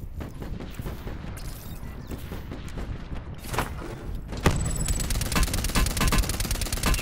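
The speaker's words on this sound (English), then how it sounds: "They were shooting at you." Gunfire in a battle royale video game comes through as a rapid series of distant cracks and bursts over a steady game background, growing denser and louder in the second half.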